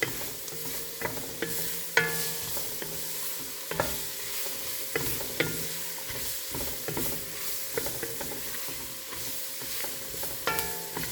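Gumbo vegetables stirred in a pot over a low fire, with a soft continuous sizzle broken by repeated sharp scrapes and clacks of the spoon against the pot at an irregular rhythm, close up and with no talking.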